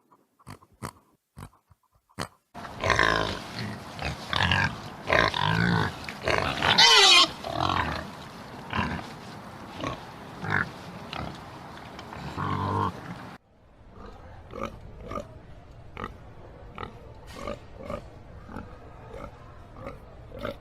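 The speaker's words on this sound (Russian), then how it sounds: "Поросята со свиньей хрюкают, визжат порой." A sow and her piglets grunt, snort and squeal close by, first in a string of sharp clicks, then a loud burst of busy squealing, followed by quieter rhythmic grunting.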